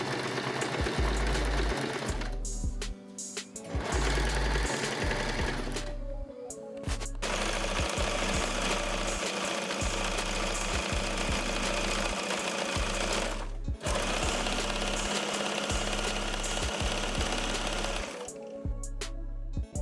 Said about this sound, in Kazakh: Мінекей ұзыннан барлығын тігіп алып жатырмын